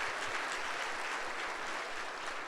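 A church congregation claps together during a Sunday service, a steady, dense patter of many hands that holds an even loudness throughout.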